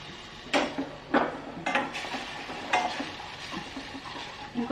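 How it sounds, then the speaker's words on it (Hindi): An almond and milk paste is roasted in ghee while a spoon stirs and scrapes the pan, giving several sharp scraping strokes over a soft steady sizzle, close and alone with no voices. "इनको थोड़ा सा भूनना है"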